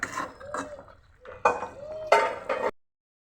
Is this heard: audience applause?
no